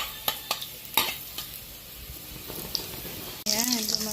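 Onion and garlic go into a little hot oil in a kawali and start sautéing. Several sharp clatters and taps of a utensil come first, then a quiet sizzle, and a voice speaks briefly near the end.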